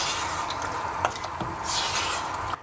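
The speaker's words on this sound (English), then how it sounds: "And now we'll give that a little stir." Vegetable stock being stirred into a pot of vegetable soup, wet sloshing and liquid swishing with a few small clinks, close and fairly loud, with no talk.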